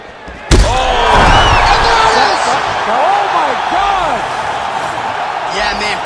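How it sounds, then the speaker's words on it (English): Crowd in the UFC 5 fighting video game roars steadily on its feet as a new round begins, opening with a sharp thud, then sustained loud cheering and whoops mixed with a commentator's voice. "the crowd on its feet as this next round gets underway"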